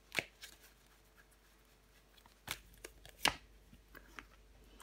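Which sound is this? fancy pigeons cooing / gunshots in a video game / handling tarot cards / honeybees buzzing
handling tarot cards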